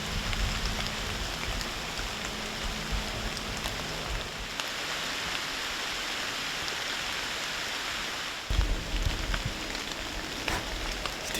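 Rain falls steadily in an Iowa woodland during a bowhunt, a constant hiss of drops on leaves and surfaces, fairly loud and even throughout, with a couple of brief thumps near the end and no talking.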